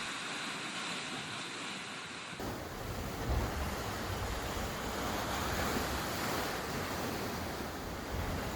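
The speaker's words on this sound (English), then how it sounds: "by violent waves crashing onto the shore and dissolving the limestone cliff faces" Waves crash steadily onto a limestone lakeside shore below cliffs, a continuous broad roar of surf with wind buffeting the microphone, loud and close with no voices.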